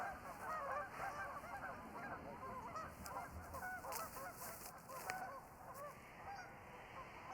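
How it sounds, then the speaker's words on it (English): A group of geese honks repeatedly out on a golf course, faint and distant, a scattered chorus of calls over soft outdoor ambience with no voices. "Like Goose's family's out there."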